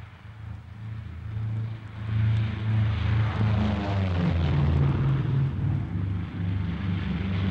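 Valetta transport aircraft at Kuala Lumpur Airfield, piston propeller engines droning with a deep throbbing hum that swells louder and holds steady, close and continuous, with no voices.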